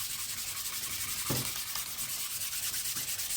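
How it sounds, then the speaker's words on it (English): Fresh sandpaper rubbed by hand across a wooden Les Paul guitar body from a DIY kit, a steady rhythmic scratchy rasp repeating back and forth, close up. "I'm going to take some fresh sandpaper. I'm going to use my hand."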